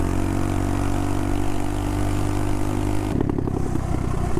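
A tiny motorbike rides fast in cold, windy conditions, its small engine a loud steady buzz mixed with wind rush, then changing to a rougher clattering tone near the end, with no talk.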